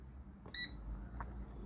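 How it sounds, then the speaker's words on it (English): A multimeter in buzzer (continuity) mode sounds one short, clear electronic beep with a few harmonics, alone and moderately loud amid a quiet background. "We just use the buzzer mode as I told you."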